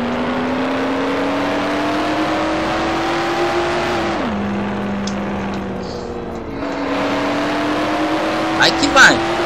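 A car in the video game Mafia drives with a steady engine drone that climbs in pitch, drops as it shifts down, then settles and rises again, loud and continuous, with a brief squeal near the end.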